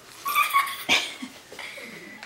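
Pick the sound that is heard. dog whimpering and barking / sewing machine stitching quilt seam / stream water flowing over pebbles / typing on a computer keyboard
dog whimpering and barking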